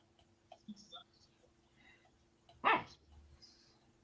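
A single close, loud dog bark cuts in once partway through, set against quiet room tone with faint scattered noises before and after.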